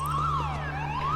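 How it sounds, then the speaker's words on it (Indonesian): A wailing alarm siren sounds in a film, its pitch sweeping up and down in a smooth loop, loud and close over a steady low hum, with no voices. "Petugas yang ketakutan langsung kabur keluar dan menyalakan alarm."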